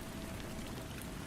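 Steady rain falls in a dense, even hiss of drops pattering on surfaces, a continuous soft wash with no voices.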